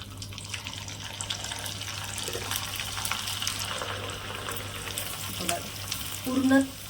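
Poha kurdai deep-frying in hot oil in a kadhai gives a loud, continuous crackling sizzle with a few stirring scrapes, swelling briefly near the end.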